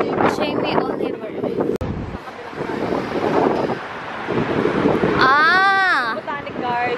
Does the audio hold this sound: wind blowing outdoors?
yes